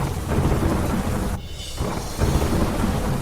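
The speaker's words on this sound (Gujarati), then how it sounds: "અરવલ્લીના મોડાસામાં વરસાદ" Heavy monsoon downpour in Modasa, Aravalli, a dense steady roar of rain with deep thunder rumbling underneath, briefly easing for a moment before the pounding returns at full strength.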